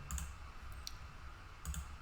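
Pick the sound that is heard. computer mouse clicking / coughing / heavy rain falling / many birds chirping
computer mouse clicking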